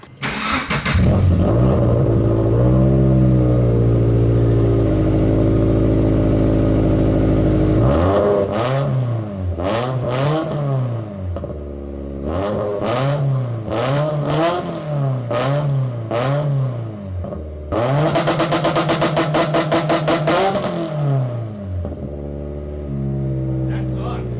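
A turbocharged Scion FR-S drift car engine with a new exhaust starts and idles loudly, then is revved repeatedly in short bursts, each rising and falling, with a long sustained rev near the end.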